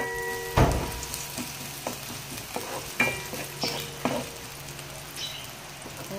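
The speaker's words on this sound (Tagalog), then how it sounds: "ilagay ko na po ang garlic" Garlic fries in a pan as the first step of crab cooked in coconut milk, a loud clatter as it drops in, then continuous sizzling with occasional stirring scrapes and clinks, no voices.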